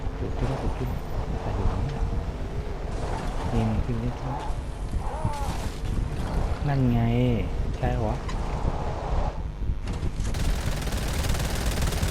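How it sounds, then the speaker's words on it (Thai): Rapid bursts of gunfire ring out from a Fortnite game scene amid engine noise and water-like sounds, with dense, continuous clatter throughout. "เสียงปืนเสียงปืน"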